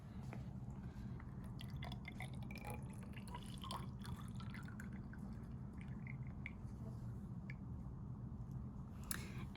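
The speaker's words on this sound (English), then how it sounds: "So I'm going to measure out the water first." Water poured into a graduated cylinder in a grape lab, with quiet drips and trickles of liquid over a low steady hum, faint and close.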